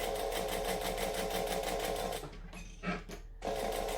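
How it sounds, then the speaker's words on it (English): Steady close-up whir of a sewing machine stitching and back stitching a heart-shaped eyeglasses case, running continuously before stopping briefly with a couple of soft handling noises, then starting up again. "So we're going to stitch and back stitch."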